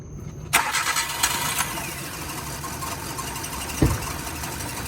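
A car engine cranks and catches at once during misfire diagnosis, then settles into a steady, rough-sounding idle that runs on with a brief knock near the end.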